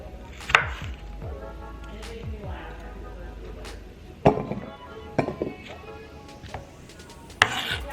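A knife cuts apples and plums into chunks on a board, giving a few sharp, irregular chopping knocks over a low background hum, close and distinct.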